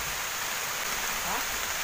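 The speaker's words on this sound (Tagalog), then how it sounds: "Umulan na nga." Steady, dense hiss of rain falling close by, a continuous wash with no breaks.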